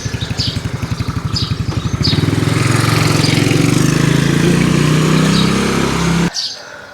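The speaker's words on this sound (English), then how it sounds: "let's just let the bike go by" A motorcycle passes on a residential street in Udon Thani, Thailand, its engine chugging in a rhythmic idle before swelling into a loud, close roar that holds and then cuts away abruptly, with birds chirping faintly.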